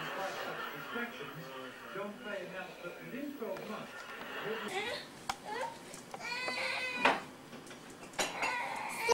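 A household cat meows several times amid busy family chatter and children's voices during a home gathering, the cries mixed in with overlapping talk and laughter.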